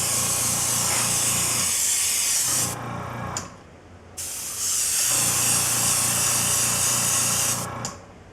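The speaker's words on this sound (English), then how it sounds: "put some in the airbrush, and you stay about a foot away and you just dust it on" Close, steady hiss of an airbrush dusting thinned buff paint onto a model Panther tank, in two long bursts separated by a short lull, with no talk over it.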